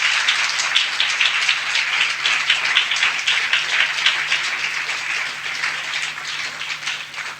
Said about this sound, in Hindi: परमेश्वर के लिए हम जोरदार से ताली बजाएंगे